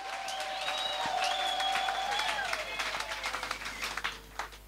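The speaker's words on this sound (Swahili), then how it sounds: "Hebu mpe Bwana Yesu makofi mazuri na vigeregele." A church congregation breaks into loud applause with high trilling ululation riding over the clapping, building and then thinning out after a few seconds.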